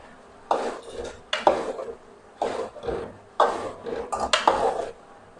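Aloo baingan with fresh coriander being stirred and mixed in a cooking pot, a series of scraping, clattering bursts of spoon against metal, loud and close, with short pauses between strokes and no talking.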